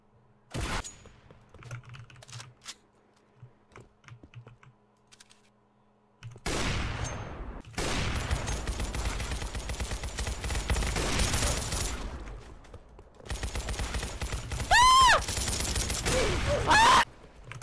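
Gunfire in the video game Weaponry, heard in dense, loud bursts of rapid shots, the first few seconds sparse with clicks from a computer keyboard before the firing starts.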